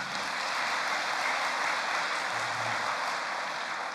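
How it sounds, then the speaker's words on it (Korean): A large congregation at a church worship service applauds in a steady, distant roar of dense clapping that holds evenly without pause. "여러분 다시 한번 박수 보내주시기 바랍니다."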